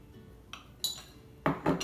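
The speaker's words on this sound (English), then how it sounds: "We're just going to mix together in a bowl." Dry cookie ingredients being stirred in a bowl: a few soft scrapes and light clinks of utensil against dish, quiet and close, with short pauses between strokes.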